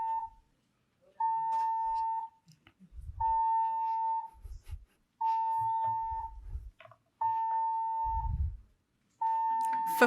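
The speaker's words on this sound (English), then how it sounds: "a fire alarm?" A fire alarm goes off in a lecture room, sounding as a series of loud, steady electronic beeps in evenly spaced bursts of about a second each, with pauses between and low rumbling room noise underneath.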